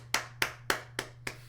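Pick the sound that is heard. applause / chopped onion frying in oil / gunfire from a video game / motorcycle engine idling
applause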